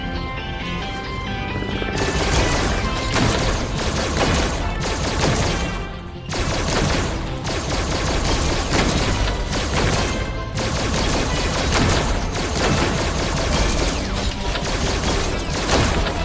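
Rapid gunfire from the VR shooter game Help Wanted 2, a dense, continuous barrage of loud shots layered with crashes and other game sounds, steady throughout with a brief dip near the middle.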